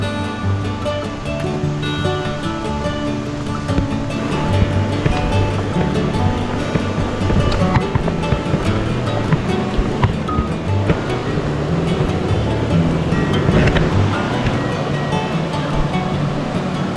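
A river in Linville Gorge, North Carolina, rushes past riverside campsites, a steady, loud wash of flowing water that continues unbroken throughout.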